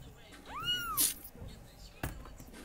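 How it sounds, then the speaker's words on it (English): A house cat gives one close, rising-and-falling meow in a quiet room, followed by a few soft knocks and thumps. "sorry for the meowing noises"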